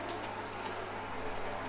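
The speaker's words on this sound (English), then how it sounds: "So let's fill it a couple of times with the pump" Water from a pump pouring into a summer dishwasher, a steady rushing flow heard close and continuously, with no talking.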